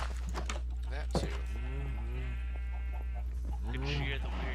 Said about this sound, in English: You can shear the weird cave sheep.